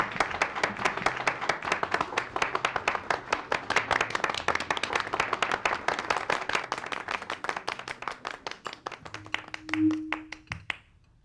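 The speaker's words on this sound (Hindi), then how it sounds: "तालियां बजाएं भाई" An audience claps in a rhythmic, fairly even beat that runs for several seconds, loud at first and gradually thinning toward the end, with a brief tonal hum near the close.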